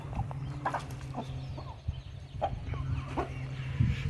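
Chickens cluck in short, scattered calls on a poultry farm keeping breeder birds, heard over a steady low hum with no talking.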